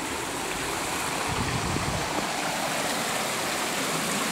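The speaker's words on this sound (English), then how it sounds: "The stream is flowing down." A flowing stream in a Japanese garden, a steady broadband rush of water, fairly close and even in level with no talking over it.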